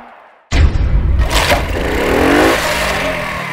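A motorcycle engine catches after a start attempt, bursting into loud, rough running with a clattery mechanical rattle and uneven revving close by.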